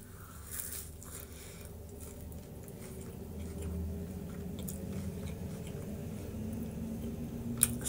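Puff-pastry khachapuri filled with pear, honey and cheese being chewed close to the mic, soft moist squishy bites and steady mastication over a constant background hiss, no speech.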